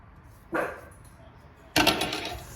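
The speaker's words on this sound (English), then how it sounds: "It wouldn't be a video without Ralphie barking at the neighbors." Two loud dog barks ring out close by, a short one first and then a longer, stronger bark about a second later.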